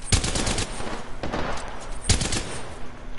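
Gunfire in the shooter game Apex Legends, rapid bursts of shots near and loud, with a short pause between two bursts and game sound effects underneath.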